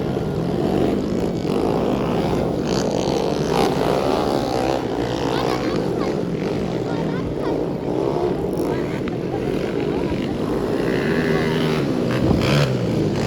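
Underbone motorcycles race a beginners' first heat at a fiesta motocross in Cogon, Gitagum, their engines a steady, loud, continuous drone with voices talking over it throughout.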